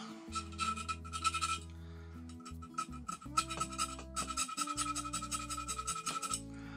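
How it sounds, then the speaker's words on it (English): Metal file rasping across the top of an airsoft Bolt M part, a close run of repeated scraping strokes in short bursts with brief pauses, some tonal ringing underneath. "all I have to do is just file away a little bit at the top"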